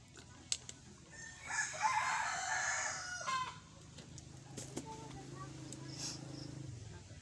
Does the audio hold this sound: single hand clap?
no